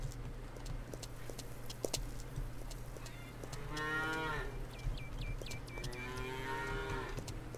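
Cattle on a farm in the video game Farmer's Dynasty give two long, drawn-out moos a few seconds apart, quiet under a low steady hum with soft hoof clip-clops and clicks around them.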